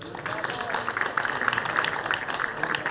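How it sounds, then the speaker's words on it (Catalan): Crowd applause at an outdoor Ascó bonfire festival, where the Canigó flame is received, a steady mass of clapping over three seconds with voices mixed in. "Un fort aplaudiment"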